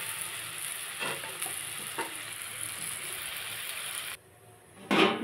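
A fried spice mixture with green chilies and turmeric sizzles quietly in a pan, with a couple of stirring scrapes; after a brief lull, water poured in sets off a sudden, louder burst of hissing.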